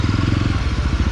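A 2022 Yezdi Roadster motorcycle engine fires close by in a steady, rapid, even rhythm of loud thumping pulses, with no voices over it.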